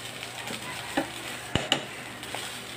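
Cold leftover rice sizzles steadily in a hot pan while a utensil scrapes and stirs it, with a few sharper clinks against the metal, close and continuous.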